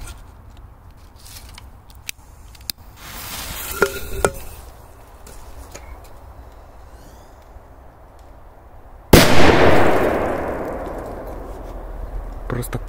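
A K-05 firecracker bursts inside a Fanta can with one sharp, loud blast, and a roaring, hissing wash trails off afterward. A few faint clicks and rustles come just before it.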